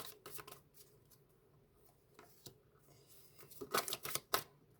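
Tarot cards shuffled and drawn by hand, a few soft riffling bursts early, then a louder cluster of card flicks and slaps near the end, close up with no talking.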